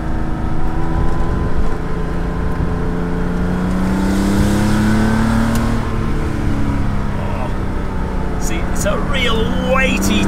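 A Porsche 911 Carrera 2.7 RS climbs a hillclimb course, its engine close and loud, with gears rising and falling in pitch as it pulls hard and works through the gears.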